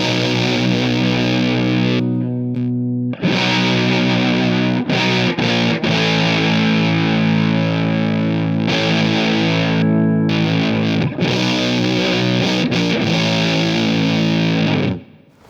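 An electric guitar plays through a fuzz pedal set for a FuzzFace-like tone. Loud, saturated sustained chords ring out with a few brief breaks, then the sound cuts off at the end.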